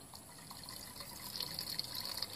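A brewing hops bag lifted out of wort for a honey ale, with liquid trickling and draining steadily back into the pot, a soft continuous splashing that swells slightly toward the end, close by and alone.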